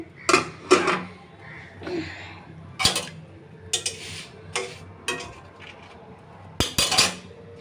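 Metal cookware clatters as a lid is set on a cooking pot while pitha bakes, a series of sharp clinks and knocks scattered over several seconds, close and moderately loud with no talk.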